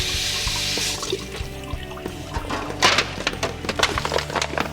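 A kitchen tap runs steadily while a raw turkey is rinsed, a close hiss of flowing water broken by splashes and clatter as the bird is handled in the sink.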